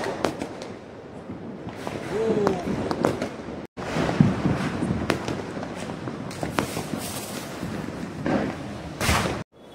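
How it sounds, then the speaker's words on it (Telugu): Diwali firecrackers burst across a neighbourhood seen from a rooftop, with irregular sharp bangs and pops, some close and loud, others distant, while people talk in the background. "అందరూ క్రాకర్స్ కాల్స్తున్నారు"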